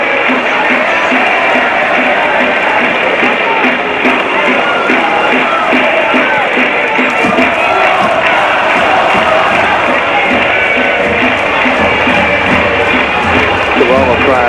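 A home crowd at a Roma Women versus Como Women football match roars and cheers loudly and continuously, a dense wall of voices with a commentator talking over it throughout.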